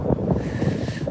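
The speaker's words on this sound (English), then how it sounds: "It is windy." Strong wind blows outdoors, buffeting the microphone in a steady low rumble with gusty swells across a short moment. No speech is heard.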